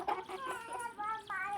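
Chickens and roosters clucking and calling close by, a quick run of short throaty calls over a faint backdrop, with a voice partly mixed in.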